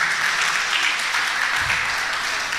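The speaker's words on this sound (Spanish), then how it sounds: "¿Damos un aplauso al Señor?" Congregation applauding the Lord during a Spanish-language church service, a steady wash of clapping from many hands that holds evenly across the whole stretch with no talk over it.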